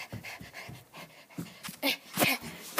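A dog panting rapidly and rhythmically up close, with soft breaths and a few faint whimper-like tones near the end.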